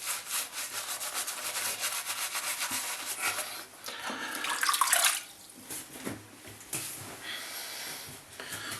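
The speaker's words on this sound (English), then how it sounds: "So the 3-press shave starts off always with a good lathering." A shaving brush swirls and rubs through shaving soap for a three-pass wet shave, producing steady wet, bristly lathering sounds close up with some louder frothy bursts midway.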